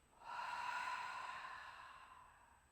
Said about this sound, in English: Big breath in. Slow exhale out.